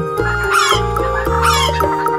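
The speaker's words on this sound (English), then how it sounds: "H for hen" A hen clucks repeatedly over a steady background hum, the calls rising in rapid bursts that carry clearly and close.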